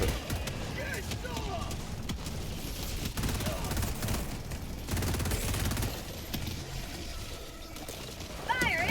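Rapid bursts of gunfire rattle through a busy Helldivers 2 battle, dense and continuous with other game effects mixed in, while someone talks over the action.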